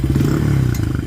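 Honda CRF80F dirt bike engine, freshly carb-rebuilt, idling with a rapid putter and a quick throttle blip, close and fairly loud for about a second.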